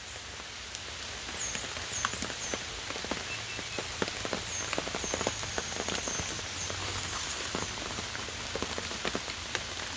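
Outdoor rain falls steadily, with a dense patter of drops and frequent sharp taps on nearby surfaces, close and constant throughout with no talking.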